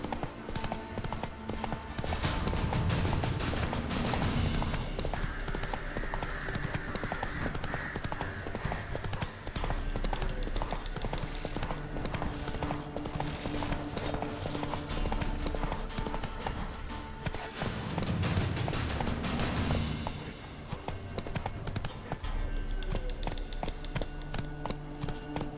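Roach the horse gallops in The Witcher 3, hooves clip-clopping in a steady, fast rhythm at moderate distance, with a few louder bursts of movement and no one speaking over it.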